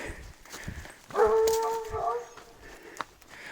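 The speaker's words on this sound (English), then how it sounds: "Got a hiking partner now, this hound dog." A hound dog on a mountain hiking trail gives a brief whining yelp with a drawn-out tonal whimper near the middle, close by, amid quiet outdoor ambience and faint footsteps.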